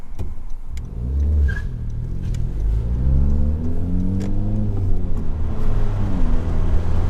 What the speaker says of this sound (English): It's currently in stock mode, so that's what I'm calling it now, the stock mode, because it sounds basically like a stock exhaust.